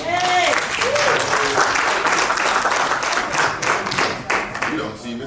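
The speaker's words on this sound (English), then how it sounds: "A little applause." Applause from the audience at a village board meeting in Hempstead, a dense steady patter of clapping that fills the room for several seconds at a fairly loud level, with some voices mixed in.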